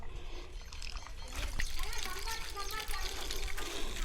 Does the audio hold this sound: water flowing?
yes